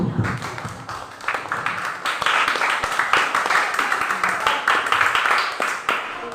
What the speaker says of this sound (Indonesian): Kita beri aplaus untuk semua kelompok yang sudah mengerjakan.